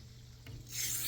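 A knife blade drawn across a Winklez rolling knife sharpener makes a faint, brief gritty rasp that swells into a brighter scrape near the end, with no voices.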